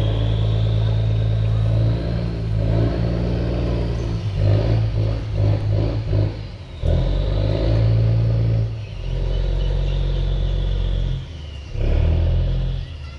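A decorative Vietnamese ghe boat's engine fires up and runs loud and close, its deep throbbing rumble surging and dipping with throttle changes, with voices talking nearby.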